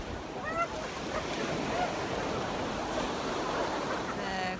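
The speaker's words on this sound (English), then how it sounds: "you're here directly at the ocean" Ocean waves break and wash in front of a beach bar at Bavaro, Punta Cana, a constant roar of surf with gusty wind buffeting the microphone and no clear talking.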